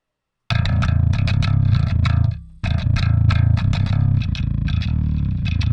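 A gritty, overdriven bass guitar plays a busy riff through an SVT-4 Pro amp with the mid-range cut, with a brief pause partway, loud and upfront with no voices.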